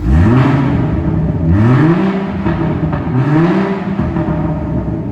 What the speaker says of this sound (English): The vehicle's now in sport, and we'll of course give it a little rev up.